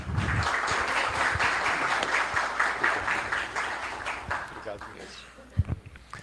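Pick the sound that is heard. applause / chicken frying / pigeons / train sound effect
applause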